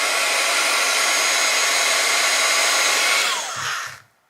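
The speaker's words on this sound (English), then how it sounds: "I have this heat embossing tool, which is basically a heat gun. If you just put that on the leaf for a little while and heat it up" Heat embossing tool, essentially a small heat gun, blowing on a bent craft leaf: a loud, steady fan-driven whoosh held close for several seconds, then winding down and cutting off.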